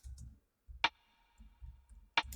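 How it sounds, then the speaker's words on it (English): Rim-shot snare sample with reverb, the first of three snare layers, struck twice as sharp bright cracks with a short ringing tail, over a soft low beat pulsing underneath. "This is the first snare layer."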